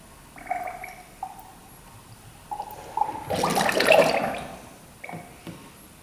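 Coolant pours into a racing dirt bike in one short gurgling splash of liquid midway through, with quieter handling clinks before and after.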